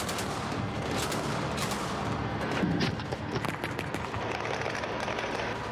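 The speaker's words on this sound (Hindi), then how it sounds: "मिसाइल लॉन्चर से फायरिंग हो रही है।" Military weapons firing during large-scale Russian troop exercises in Belarus, with tanks and missile launchers: a rapid series of sharp distant reports and rumbling bursts over a steady noisy background, fairly faint.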